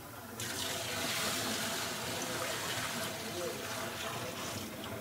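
Liquid for a peanut butter and jelly cream ice pours steadily through a strainer, a continuous close splashing rush that holds from start to finish.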